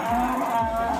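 Cattle low loudly at a sacrificial-animal livestock market in Situbondo, a single long, deep moo running the full second over a busy background, with no talk.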